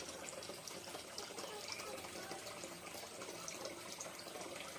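Water running from a tap into a container to cool it, a quiet continuous splashing and gurgling flow that holds steady throughout with no break.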